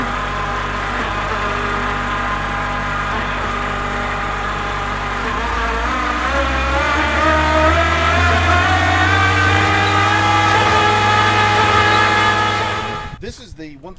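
A Blastcrete Dampcon rig's engine runs well below full throttle while driving a 1,000 pound capacity paddle mixer, a steady loud mechanical drone with a churning hum and a slight shift in pitch midway, ending in a brief clatter.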